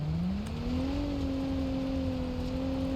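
A car driving in the BeamNG.drive video game, with a continuous engine drone rising slightly in pitch then holding steady, together with road and tyre noise, loud and unbroken throughout.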